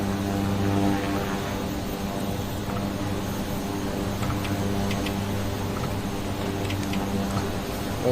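Single-prop Kodiak 100 in a Microsoft Flight Simulator bush-flying session in Papua New Guinea, its turboprop engine droning steadily and evenly while taxiing, with a soft ticking texture over the hum.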